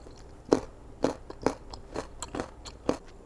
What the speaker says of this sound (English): Let me taste my shrimp.